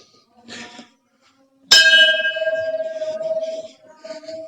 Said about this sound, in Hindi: ये घंटियां हैं जितनी लगी हुई हैं, ये मनोकामना पूरी होने के बाद भक्त लोग चढ़ाते हैं